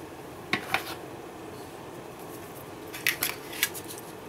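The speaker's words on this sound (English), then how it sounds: "Now I'm going to take my scissors" Scissors snip a few times on a model part for Damnation Alley Landmaster rocket tubes, faint and close, with two quick cuts early and a short cluster of snips near the end over quiet room tone.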